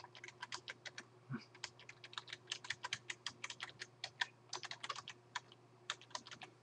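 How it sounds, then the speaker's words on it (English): Rapid keystrokes on a computer keyboard as a web address is typed in, close and clear, with steady clicking bursts and brief pauses, no voices. "So here I type in my sitemap address"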